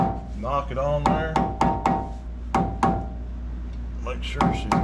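A hammer knocks a greased part into place on a 1992 Toyota being lowered: several sharp, close knocks spaced about half a second apart, with someone speaking briefly at the start.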